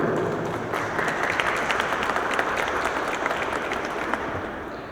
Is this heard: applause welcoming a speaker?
yes